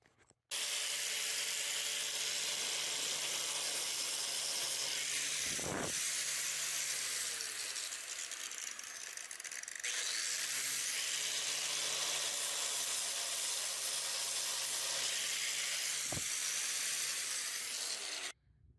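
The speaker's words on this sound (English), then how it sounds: "So we ended up grinding very lightly here" Light grinding on a steel tab-and-slot welding table in a home garage: a steady, loud broadband grinder hiss runs almost continuously, with a low motor hum beneath and two brief sharp scraping bursts as the wheel catches.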